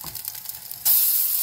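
Food sizzles in a covered pan over low heat, a soft crackle that jumps suddenly to a louder, steady hiss partway through, with no talking.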